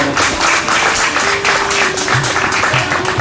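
Loud, dense applause from an audience at a Krantikari Jayanti celebration, steady and continuous throughout with a few low thumps mixed in.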